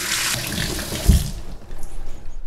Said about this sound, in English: I'll just give them a little bit of a rinse.